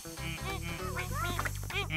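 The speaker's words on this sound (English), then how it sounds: "Oh, ducks." Cartoon ducks quacking in a farm scene for children, a quick run of nasal, voiced quacks, several overlapping, close and clear over a continuous low background tone.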